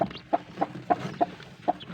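A hen with two-day-old chicks clucks in short, regular bursts, six or so soft calls close by, with faint peeping of chicks in the background.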